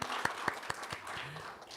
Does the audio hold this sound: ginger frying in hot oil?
no